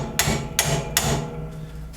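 Hammer tapping on a metal wrench: three sharp, ringing metallic strikes in an even rhythm at close range, each followed by a short decaying ring.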